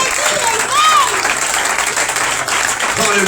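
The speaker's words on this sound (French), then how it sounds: "Oh, acclame Jésus." A congregation at a French-language Feast of Tabernacles conference applauds, dense clapping filling the whole clip while a voice rises briefly over it.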